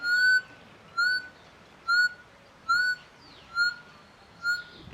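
A QED metal detector sounds its signal over a target: six short, high, whistle-like peeps spaced about a second apart, clear and alone with no talking.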